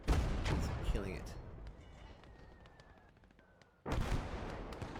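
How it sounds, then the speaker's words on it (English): Mortar fire from a 120 mm mortar in the World War II strategy game Gates of Hell: Ostfront, heavy booming blasts at the start and again near the end, with someone talking over the battle noise. "Now that 120 mil mortar is killing it."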